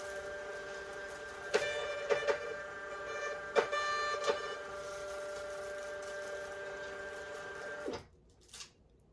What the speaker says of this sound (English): my printer always prints a blank label in between every actual label